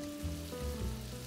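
Bacon sizzling in melted butter in a frying pan, a steady close crackle and hiss that fills the short moment without any talk.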